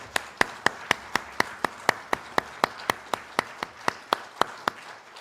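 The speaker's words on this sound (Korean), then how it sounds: "영광의 박수 올려드리겠습니다." A congregation at a Sunday church service claps together in a slow, even rhythm, about twenty sharp, evenly spaced claps at a moderate volume with no voices over them.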